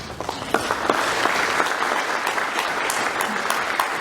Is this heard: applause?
yes